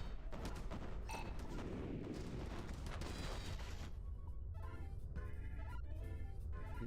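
Missiles fire in the space combat video game A-Spec: a continuous loud, dense roar of launches and blasts that thins into a lighter crackling tail, with no voices.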